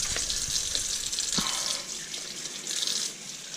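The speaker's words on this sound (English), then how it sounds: "Let's get some cold water, not hot water, but cold water here." Cold water runs from a kitchen tap over a rack of ribs being rinsed in a sink, a steady close hiss with light splashes and drips as the flow shifts.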